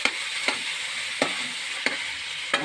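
Ampalaya (bitter gourd) with tomatoes sautéing in oil in a pan, giving a steady close sizzle broken by a few sharp scrapes of a spatula stirring at roughly half-second intervals.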